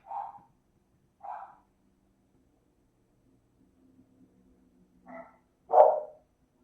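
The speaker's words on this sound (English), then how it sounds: "I don't know what they're barking at." Dogs barking indoors with nothing outside, a few separate loud barks with long pauses between, the last one strongest, and no talk.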